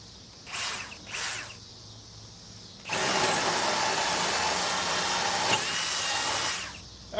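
A Ridgid power drill fitted with a DeWalt 7/8 bit gives two short test whirs, then runs loud and steady for several seconds as it bores, dipping briefly under load before stopping.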